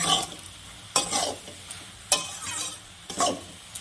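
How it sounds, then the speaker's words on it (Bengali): Onions and spices sautéing in a pan while being stirred for a dried-fish dish with lotte shutki and sidol, a soft steady sizzle broken by four sharp scraping stirs of a spatula at regular intervals. "এবার আমি ভালো করে মশলা সহকারে কষিয়ে নিব পেঁয়াজের সাথে। বেশ খানিকক্ষণ ধরে কষাবো।"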